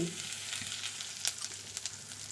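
Whole spices and asafoetida sizzle in hot oil in a pan, a faint steady hiss with a few sharper crackles and pops, close by and with no talk.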